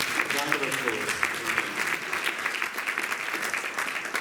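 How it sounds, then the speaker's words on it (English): A crowd gives a sustained round of applause at an Aradhana Day celebration, dense clapping holding steady for the whole stretch with voices faintly mixed in. "Yes, round of applause."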